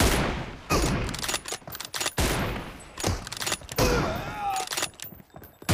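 M24 sniper rifle and other weapons firing in a BGMI team deathmatch, with dense rapid bursts of gunfire and sharp game effects packed close together over a few seconds.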